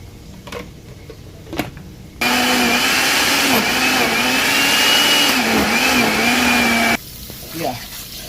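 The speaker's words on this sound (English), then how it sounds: "I'm going to blend ginger, garlic, onion, and add everything together." A kitchen blender pulverises ginger, garlic and onion for party jollof rice, running as one loud, steady whirring roar for about five seconds, with quieter kitchen sounds before and after.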